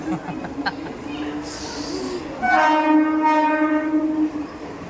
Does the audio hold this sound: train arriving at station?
yes